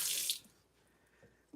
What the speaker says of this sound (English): You can just run it hot tap water.